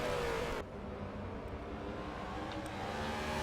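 Onboard a red and black BMW Z4 GT3 race car during qualifying, the engine drones loudly and steadily, with a brief pitch drop at the start before it holds a constant roar.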